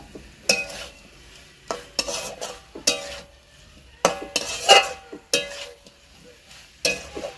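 A spoon stirs jackfruit and potato curry in a pan, scraping and clinking against the metal in irregular strokes over a faint sizzle, with short pauses between bursts.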